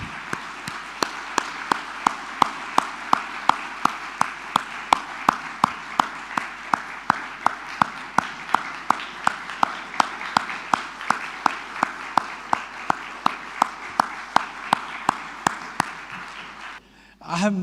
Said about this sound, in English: please join me in applauding His Excellency Sunjay Sudhir